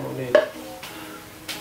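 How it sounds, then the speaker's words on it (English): Bacon stirred in its own rendered fat in a pan for carbonara gives a few soft sizzling scrapes, three brief utensil strokes spaced across a quiet background. "Keep stirring the bacon until they are golden brown."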